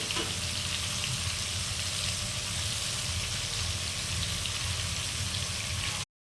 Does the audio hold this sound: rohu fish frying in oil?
yes